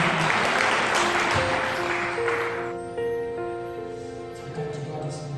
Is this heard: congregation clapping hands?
yes